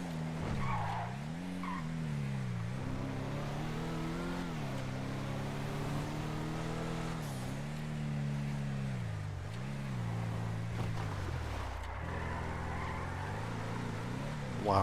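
A car driving in GTA with a steady engine drone that rises and falls through gear changes, tires skidding and squealing on the road, continuous and close throughout.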